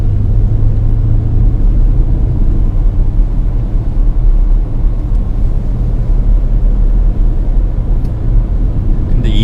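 Porsche Cayenne Turbo and Macan GTS running warm-up laps at Inje Speedium circuit, a steady loud low engine rumble and road roar throughout with no clear passes or gear changes.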